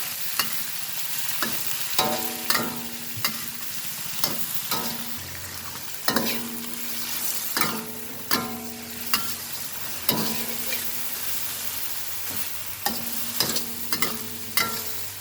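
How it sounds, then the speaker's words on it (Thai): Long eggplant stir-fried in a home kitchen pan: a steady sizzle under repeated sharp scrapes and clanks of a spatula against the pan, close and fairly loud, coming in irregular bursts with no talking. "คุณแม่ก็จะใส่มะเขือยาวลงไปเลยนะคะ เนี่ยล้างทำความสะอาดกองเรียบร้อย ใส่ลงไปเลย คนให้เข้ากันนะคะ"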